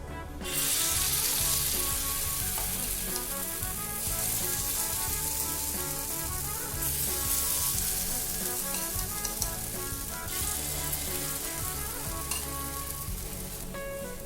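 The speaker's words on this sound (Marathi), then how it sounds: "आता त्याच्यामध्ये एक एक त्याच्यामध्ये आपे घालून घेऊया तेल छान गरम पण झालेलं आहे" Jowar flour appe batter frying in hot oil in an appe pan, a steady close sizzle that runs loud and constant throughout with occasional small crackles.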